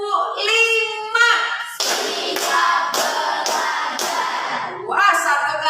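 A group in a school counseling session claps in steady rhythm, about five sharp unison claps in a row, close and loud, with voices speaking before and after.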